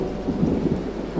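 Thunderstorm in the Toca Life World video game: heavy rain hissing without a break beneath a low, continuous rumble of thunder, dense and steady with no voices.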